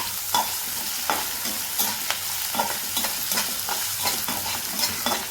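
Cashews frying in oil in a pan for poha, a steady sizzle broken by regular spatula scrapes and stirring taps at a moderate level.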